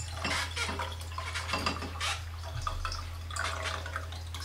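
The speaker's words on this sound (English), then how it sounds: "pour the developer away" Film developer is poured out of a Rondix 35 daylight-loading developing tank for 35 mm film, a splashing, trickling flow in uneven bursts over a steady low hum.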